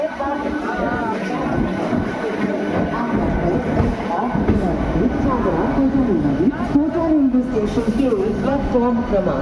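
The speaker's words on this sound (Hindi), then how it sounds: "तो गाइज़ एग्जैक्ट 8:35 पर मेमो का डिपार्चर हो गया है कोटा जंक्शन रेलवे स्टेशन से।" A crowded MEMU commuter train pulls out of Kota Junction railway station, its rumble and wheel noise running steadily throughout, with someone talking over it.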